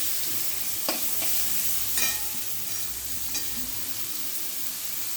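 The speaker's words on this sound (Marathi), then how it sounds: "आता त्यामध्ये आपण कांदा परतून घेणार आहोत" Onion frying in a pan for Konkani-style jackfruit bhaji, a steady close sizzle broken by a few brief scrapes of stirring.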